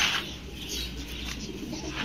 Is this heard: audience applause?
no